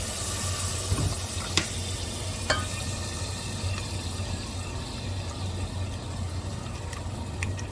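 Beef frying in a pot for seaweed soup, a steady low sizzle with a few sharp scrapes and knocks as the meat is stirred, close and continuous with no talk.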